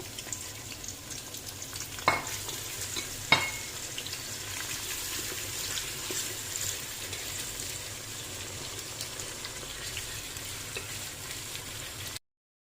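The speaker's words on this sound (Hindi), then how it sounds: "अब इसमें बाकी के प्याज ऐड कर देंगे और इसको फुल फ्लेम पे पकाना है ताकि ये जल्दी से ब्राउन हो जाए।" Onions frying in hot oil over a full flame for restaurant-style mutton nihari, a steady broadband sizzle running throughout with two sharp clinks of a utensil early on, no one speaking.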